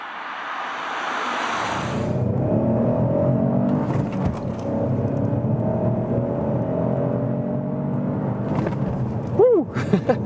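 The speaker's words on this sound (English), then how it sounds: "This feels really sporty, although it's such a small engine, but reasonable acceleration" A 2022 Opel Astra GS-Line with a small three-cylinder engine pulls away and accelerates, a steady rising engine drone with tyre and road noise heard from inside the cabin, ending with a few brief chirps.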